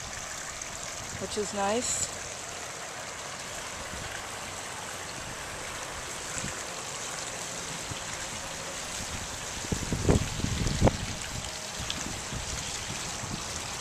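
Steady rushing of water pouring continuously from a waterfall into a PebbleTec pool nearby, with a brief spoken remark and a few knocks over the constant flow.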